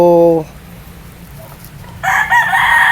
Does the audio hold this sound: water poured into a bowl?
no